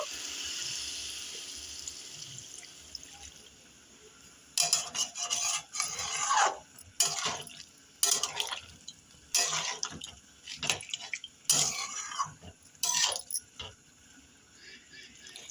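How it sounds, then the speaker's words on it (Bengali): Water is splashed into a cooking pan of cauliflower, potato and egg curry. After a few quiet seconds, several bursts of pouring and splashing follow close by, each loud and separated by short pauses. "সামান্য একটু পানি দিয়ে দেবো"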